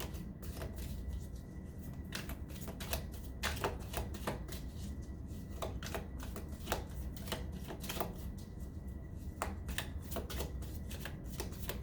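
Tarot cards are shuffled by hand in continuous crisp riffling and slapping bursts at a close, quiet level, with no talking.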